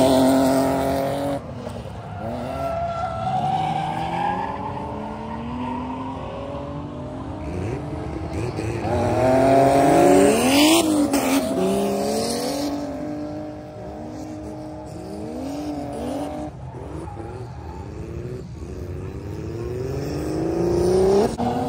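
A budget-built BMW E36 drifting at a drift event, its engine revving hard and rising and falling through long sweeping pulls, with tire squeal, loud and close for over twenty seconds.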